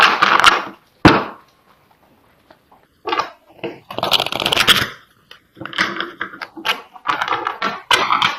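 Tarot cards being shuffled by hand, several bursts of crisp riffling and slapping close by, separated by short quiet gaps, with no talk.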